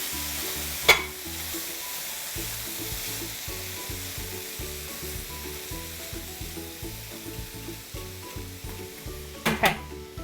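Frozen cauliflower sizzles in a pot, a steady hissing fry under a rhythmic, looping low thump, with a sharp clatter near the start and a couple of knocks near the end.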